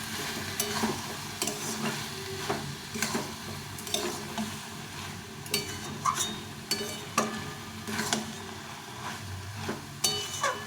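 Bottle gourd curry with fish head sautéing in a pan, a continuous soft sizzle under repeated scraping strokes of a stirring spoon, close and fairly even, no voices.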